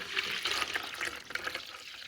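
Water pours from a container into a pitcher, a bright continuous splashing and trickling stream that stays moderately quiet and unbroken throughout.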